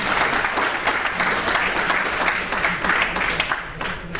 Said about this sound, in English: I'd like us to give a really big round of applause to the volunteers that runs this radio station